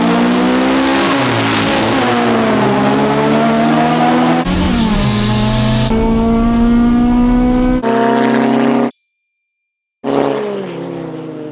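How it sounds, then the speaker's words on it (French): A Honda Civic and a Peugeot 206 2L HDi accelerating hard in a drag race, loud engines climbing through rising revs with gear changes, then briefly cut to near silence and a chime before engine noise resumes. "Les deux voitures montent très fort."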